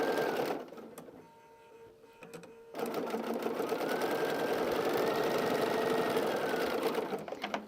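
A sewing machine stitches quilt blocks for a patriotic country-style quilt, a steady rapid mechanical whir that pauses briefly near the start, then runs continuously and loud close by.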